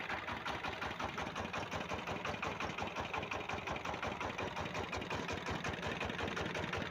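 A homemade generator driven by a diesel engine fitted with a speed governor runs steadily at a quiet, even idle, with a fast, regular mechanical pulsing throughout.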